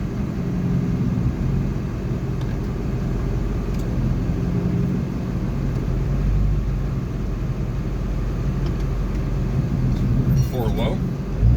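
A Duramax-powered Squarebody truck crawling along in 4 low, a steady low rumbling drivetrain drone close by, with someone talking over it.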